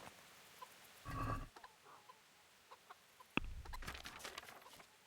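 Chickens at a coop in the video game Kingdom Come: Deliverance, with a short burst of clucking early on, then a sharp knock and a busier stretch of scattered cackles and clucks over faint ambient noise.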